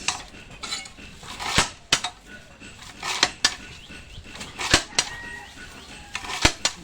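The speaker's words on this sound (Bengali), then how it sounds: "এলোমেলো খড় তো কাটা যায় এটা এলোমেলোই কাটলাম আমরা" A cattle fodder straw-cutting machine chops loose straw, producing a series of sharp, irregular metallic clacks and chopping strikes over a low background rattle, up close and fairly loud.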